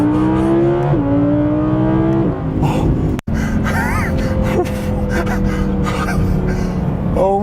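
An Audi R8 sports car accelerating hard at speed, its engine note climbing through rising harmonics in steady pulls broken by quick gear changes, loud and close, with brief excited exclamations from the driver.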